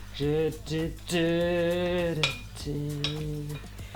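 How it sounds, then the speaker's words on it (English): A spoon stirs oats, seeds and walnuts in a glass bowl, producing loud squeaky, tonal scraping strokes in several separate sweeps with short pauses between them. "I'm going to give that a little mix around just like that."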